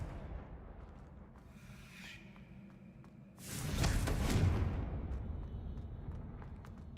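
A single heavy blast from the Confringo fire spell in Hogwarts Legacy, a sudden loud explosive burst over quiet game ambience that decays into a rumbling roar over several seconds.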